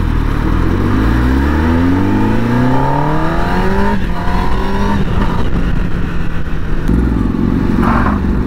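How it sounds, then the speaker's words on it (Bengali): A Yamaha Tenere motorcycle revving hard on a gravel road, engine pitch climbing steadily through the throttle then dropping and settling, loud and close, alone. "টেনারের এমন থ্রটল যে ওই কাঁকুড়ের রাস্তাটা দিয়ে একবার পেরোলো ভাই, চাকা ঘুরে যাচ্ছে রীতিমতো"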